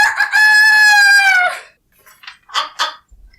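A rooster crows loudly and up close, one long drawn-out call lasting over a second, followed by a few short clucks and chicken noises with brief pauses between them.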